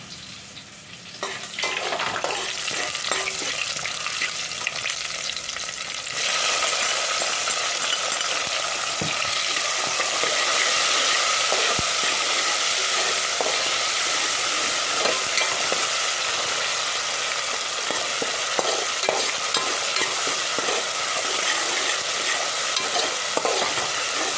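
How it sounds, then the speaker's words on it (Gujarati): Chopped tomatoes sizzle and fry loudly in hot oil with green chillies and curry leaves for a Gujarati sweet and sour tuvar dal tempering, a spoon scraping and stirring steadily throughout. "હવે નાખી દઈશું આ ટમેટા।"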